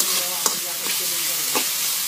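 Ham frying in a pan on low heat for carbonara, a steady soft sizzle running throughout with a few brief stirring scrapes and clinks close by.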